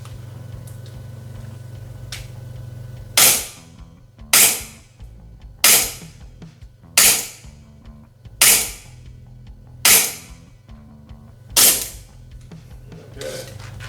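Poseidon Orion gel blaster shots from an X-Force Tactical blaster: seven crisp, loud snaps at an even pace about a second and a quarter apart, close by over a low steady hum, with no talk.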